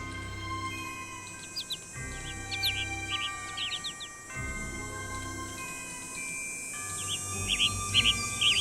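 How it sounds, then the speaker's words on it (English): Birds chirp in the game Nancy Drew: Ghost Dogs of Moon Lake, with bright, quick tweets in scattered clusters over a steady droning ambient backdrop. "How many birds are there in here?"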